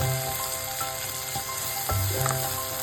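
Ridge gourd fry being stirred in a pan, with a steady close sizzle and a few scraping spoon strokes through the frying, no voices.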